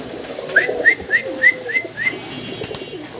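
Giribaz pigeons calling, a run of about six short rising notes at a steady pace, fairly close, with a low background murmur.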